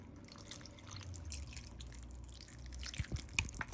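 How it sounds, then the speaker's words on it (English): Water poured into a cooking pot on a home kitchen stove while making zereshk polo, a soft steady trickle and splashing with a few louder drips near the end, heard alone. "Next, you add water."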